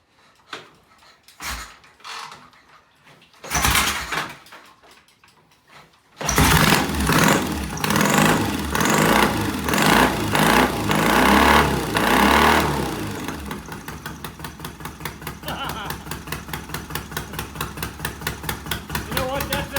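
A Triumph motorcycle in a home workshop cranks over a few times in short bursts, fires up into a loud, close, rough revving roar, then settles into an even, rhythmic idle thump.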